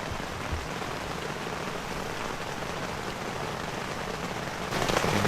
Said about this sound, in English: rain has arrived